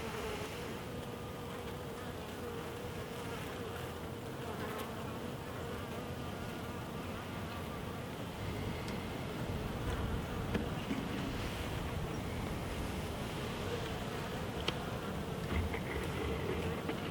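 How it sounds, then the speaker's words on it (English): Dense, continuous buzzing of many honey bees close by, a steady droning hum throughout with no talking. "We've got quite a few bees in here now"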